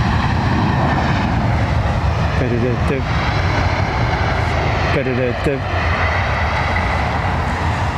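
MD-11 jet airliner at London Heathrow Airport, a loud steady broadband roar of aircraft engines filling the scene, with people talking over it throughout.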